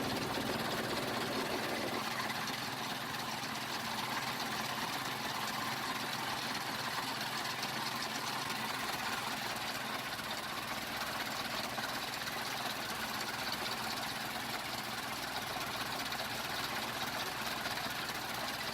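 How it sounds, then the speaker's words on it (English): A heavy-duty grinder at Oyingbo Market in Lagos, Nigeria, grinds dry achi with a constant loud mechanical drone that runs unbroken from start to finish. "The dry achi is quite difficult to grind even for these heavy duty grinders"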